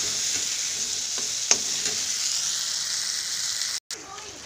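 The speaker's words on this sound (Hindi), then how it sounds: "और इधर मैंने मसूर की दाल बनाई है, इसे जीरे से छौंका लगा लेती हूँ फटाफट से।" Cumin tempering for red lentil dal sizzles in a hot pan, a steady bright crackling hiss with a few small pops and stirring clinks, close and continuous apart from a brief break near the end.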